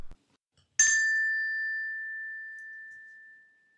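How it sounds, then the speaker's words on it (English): A single clear bell ding rings out after a brief knock, its pure tone sustaining and slowly fading over about three seconds in near silence. "Turn the page when you hear the bell ring."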